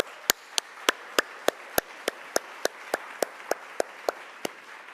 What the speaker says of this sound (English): if you could just please give them a round of applause.